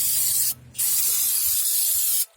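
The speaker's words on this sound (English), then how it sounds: "Flushing out the brake drum." Loud, steady water spray hissing close up as a car's rear brake drum is flushed out during cleaning, broken by a brief pause and then cutting off near the end.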